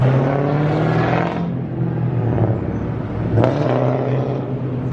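A loud car engine revs hard on a street, a thick, steady roar that swells and eases over several seconds with no one talking.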